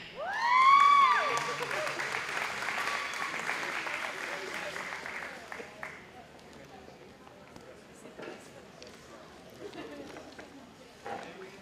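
Audience applause and cheers for high school students at a dual language bi-literacy certification ceremony, a loud whoop at the start, then steady clapping for about six seconds before fading into quieter room noise.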